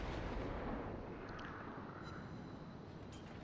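Heavy naval gunfire from warship guns in World of Warships, a dense, continuous rumbling barrage of booming shots with a few sharper high cracks, loud and sustained with no speech.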